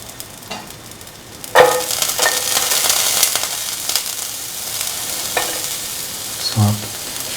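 Chopped garlic pieces frying in a hot pan for an egg vermicelli dish, a steady, close sizzle with occasional stirring scrapes and a brief louder spatter near the end.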